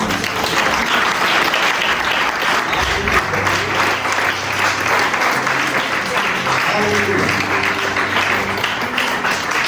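An audience at a sermon breaks into dense, sustained applause, loud and even throughout, with a voice faintly audible beneath the clapping.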